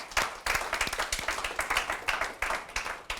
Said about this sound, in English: Give Karen a big round of applause.